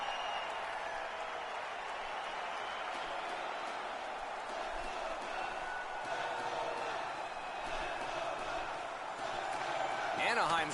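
Home crowd cheering in an NHL 17 hockey video game after a waved-off goal, a steady, loud arena roar that swells slightly near the end, with commentary voices talking over it.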